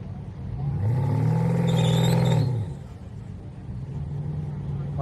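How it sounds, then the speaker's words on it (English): An Audi swells in at a drag strip, its engine rumble climbing to a loud, close roar before easing back into steady background engine noise. "Audi coming up behind me."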